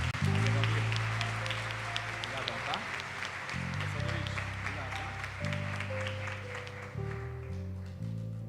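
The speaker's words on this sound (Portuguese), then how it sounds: "Louva Ele com a salva de palmas através de nossos irmãos" A house-church congregation at a 'Jesus nos Lares' worship gathering claps in praise, a crowded patter of hands that runs under sustained keyboard-style worship music and fades gradually.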